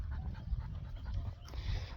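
A dog pants after a walk, quick rhythmic breaths close to the microphone, soft and steady for a couple of seconds.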